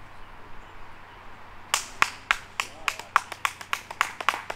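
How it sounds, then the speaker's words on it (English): A lone spectator claps at a disc golf tournament, sharp crisp claps in a steady rhythm starting after a quiet stretch, with a commentator's voice talking over them. "Solid claps. Very solid claps."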